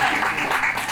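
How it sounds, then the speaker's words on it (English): Applause rises from a comedy club audience welcoming a stand-up comedian, a short, dense wash of clapping heard up close. "Give her a nice round of applause."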